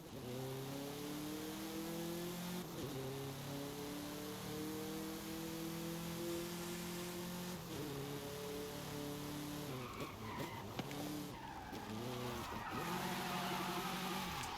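Car in Forza Horizon 5 with its engine revving through gears, then losing grip and spinning out with skidding tyre squeal and erratic revs, loud and continuous without talk.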